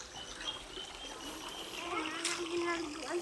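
Water splashes and trickles over rocks in a small stream in a remote barangay in Negros Occidental, a steady close burble running throughout, with a voice speaking over it and faint birdsong behind.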